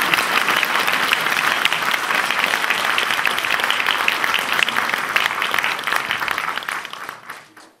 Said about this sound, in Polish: Zawsze jak wchodzi ta piękna prowadząca, to tak biją jej brawo.